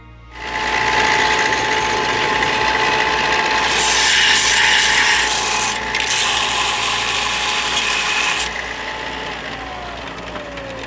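Steady abrasive grinding of a power sander running continuously, loud and close, with a brief dip in intensity partway through.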